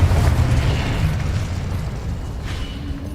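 Confringo explosion spell in Hogwarts Legacy, a deep rumbling boom that rolls and fades over a few seconds, loud and close.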